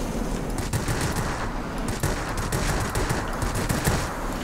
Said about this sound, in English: you can see my frustration with these guns when they overheat and they become basically useless